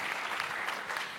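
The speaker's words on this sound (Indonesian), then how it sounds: "tepuk tangan sekali lagi dong" Audience at a youth church service applauding, a dense burst of clapping, fairly close and sustained for the whole moment.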